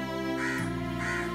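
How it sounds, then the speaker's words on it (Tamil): A crow caws twice in quick succession, harsh and nasal, close and fairly loud over a steady tonal background hum. "காலையில இருந்து இந்த காக்கா கத்திக்கிட்டே இருக்கு"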